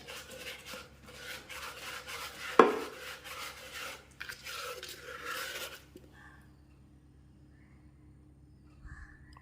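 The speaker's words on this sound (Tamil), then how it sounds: "கப்பை தேய்ச்சிட்டு உங்களுக்கு காட்டுறேன்" A cup being scrubbed to remove salt stains, a steady rasping rub with one sharp knock, close and alone, fading into quiet after several seconds.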